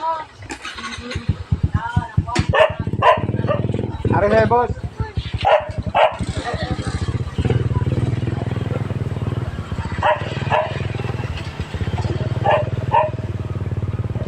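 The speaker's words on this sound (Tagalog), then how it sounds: "Sobrang ingay ng aso" A dog barks repeatedly amid loud, busy background noise and a nearby voice talking, the barks overlapping with the chatter.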